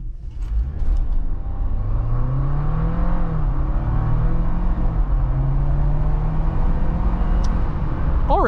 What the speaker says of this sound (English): let's just put our foot to the floor and see how we get up to 60